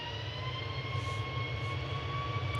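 A jet airliner taxiing at Manchester Airport near a viewing park gives a steady, moderately loud whine with a sustained high tone over a low rumble, continuous and unbroken throughout.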